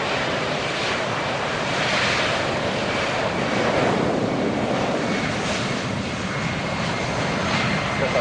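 A Japan Air Self-Defense Force KC-767 tanker jet takes off, a loud, continuous broadband engine roar that swells and rolls like surf, with wind buffeting the microphone throughout.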